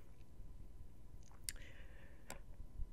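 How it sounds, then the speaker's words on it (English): Sharp clicks from the Speedy Eggbert video game, two short distinct clicks spaced about a second apart over a faint, steady background, with a brief whistling sweep between them. "The clicking sound, that's the same."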